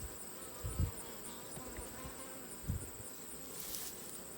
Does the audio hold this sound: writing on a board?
no